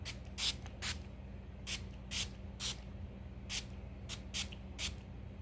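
A bottle of Wet n Wild Chameleon Chrome setting spray pumped repeatedly, giving about ten short, sharp hissing mists in quick irregular bursts against a quiet room.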